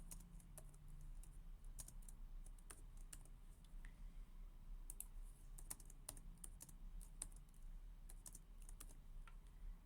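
Someone types on a computer keyboard while working on a script template, producing quiet, irregular key clicks in short bursts and isolated taps over a low background hum, fairly faint and without speech.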